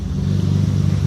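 A BMW E30 Alpina C2 tribute car with a turbocharged engine idles close by, giving a steady low, slightly uneven rumble with a light mechanical clatter and no talking.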